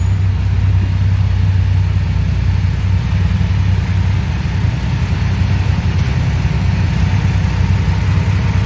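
A Triumph Rocket 3 GT motorcycle with a 2500cc engine idles close by, a steady deep, low rumble that holds even and unbroken throughout with no voices.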